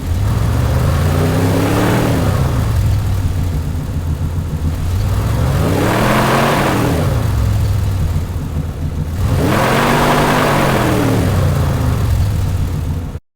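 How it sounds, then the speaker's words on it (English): Simulated car engine revving under a load ramp: a loud, continuous engine tone rises and falls in pitch three times, like a car accelerating through gear shifts, with no talk. "We can make it sound like it's going through a gear shift if we want."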